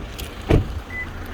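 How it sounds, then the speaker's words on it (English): A 2020 Toyota LandCruiser Prado GXL gives a short, thin warning beep near the end while its engine idles faintly underneath, preceded by a brief close thump. "So that's just beeping to let me know I've got the keys in my hand and the car is still running"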